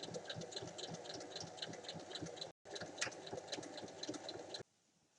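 Domestic sewing machine stitching the side seams of a holdall tote bag, a steady fast mechanical whirr with rapid needle ticking, close, running continuously apart from a brief stop, then cutting out near the end.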